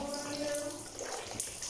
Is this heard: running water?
yes